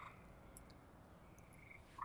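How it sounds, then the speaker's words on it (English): Frogs croaking outdoors at night, a faint, steady chorus of distant calls that continues for the whole stretch, with no talking over it. "the frogs are croaking."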